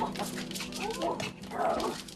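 A Chihuahua at the front door fence gives a mix of high yips, short barks and drawn-out whimpers, close and fairly loud, over faint indoor background noise.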